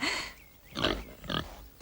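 Several short, rough pig grunts in quick bursts, fairly close, with brief pauses between them and no talking.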